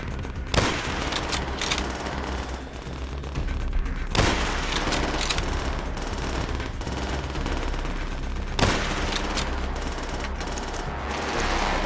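Sustained gunfire in the World War II shooter Call of Duty: World at War: dense machine-gun bursts and rifle shots roll on for the whole stretch, with sharper booming cracks near the start, middle and end, loud and close.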